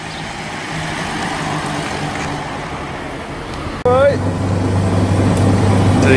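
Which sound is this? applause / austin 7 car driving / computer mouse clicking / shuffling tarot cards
austin 7 car driving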